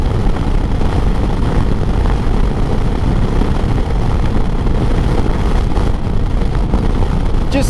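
A 2025 Harley-Davidson Street Glide FLHX motorcycle cruising at steady speed, its engine note a continuous low rumble blended with heavy wind and road noise, loud and unbroken throughout with no speech.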